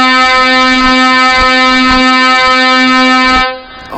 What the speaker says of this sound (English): The air horn on the lorry next to me.